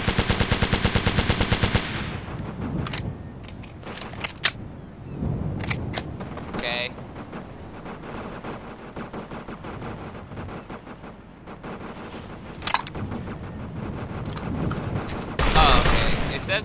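Rapid automatic gunfire from the military shooter Operation Flashpoint: Dragon Rising, with a dense burst at the start, scattered single shots and short volleys afterward, and a closing burst, while a person talks throughout.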